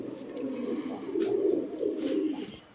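Racing pigeon at a market, a male bird giving a low throaty cooing phrase that rises and dips over a couple of seconds, close by with faint background noise.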